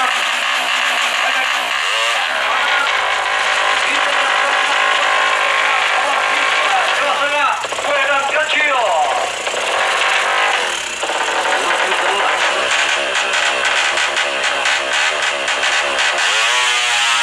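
A 200cc four-stroke underbone Suzuki Satria FU racing on a 210-meter drag strip, a sustained high-pitched revving engine whine that climbs and shifts, with an announcer talking throughout.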